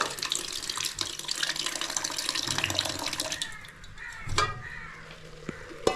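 A drinking water tap running in a home, with a bright, steady splash of flowing water that tapers off, then a few brief knocks and clatters nearby.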